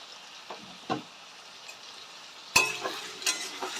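Salt and turmeric being stirred into food in a pan, with a few soft scrapes early on and then a sharper, louder clatter of the spoon followed by quick sizzling stirs, close and with no talking.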